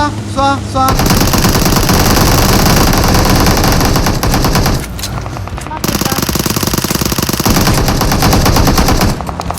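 Loud, sustained automatic gunfire from the mobile battle royale game PUBG Mobile, rapid continuous bursts with a brief pause midway, close and dominant, overlapped by excited voices talking.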